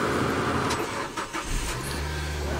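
A 2013 Nissan Juke's engine runs close by, a broad mechanical rush with a few irregular clunks that settles into a low, steady idle hum.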